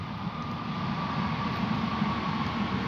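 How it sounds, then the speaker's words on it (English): A southbound commuter train rolls past the Shanganagh fields level crossing near Dublin, a steady, loud rumble with continuous wheel and rail roar throughout, heard alone without talk. "southbound train there for either Bray or Greystones"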